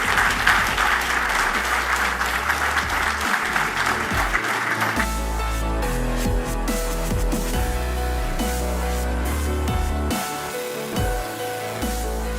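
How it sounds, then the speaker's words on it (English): Audience applause for the Transocean Ao Thai team and company leaders at a corporate gathering: dense, loud, sustained clapping that gives way midway to music with the crowd still beneath it. "please give a big round of applause for the Autai team and these fine Transocean leaders"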